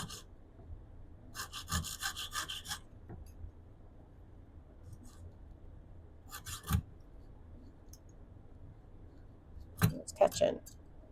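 Jeweler's saw cutting small chunks from sterling silver for a tourmaline flower brooch: several short bursts of fine rasping strokes, close by and moderately loud, separated by quiet pauses with light handling noises.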